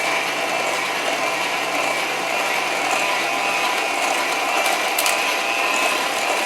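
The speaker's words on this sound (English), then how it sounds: "Using my hand mixer," Handheld electric mixer blending eggs, butter, vanilla extract and brown sugar in a bowl for chocolate chip banana bread, a steady close whirring buzz with a rattling, gear-like texture that runs unbroken and fairly loud.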